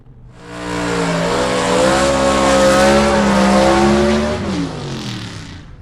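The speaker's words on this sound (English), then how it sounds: "Ted Mcke streaks on to the victory right there" B/Gas gasser drag race car from the Southeast Gassers Association charging down the track, a loud engine roar rising steadily in pitch as it accelerates, then fading near the end.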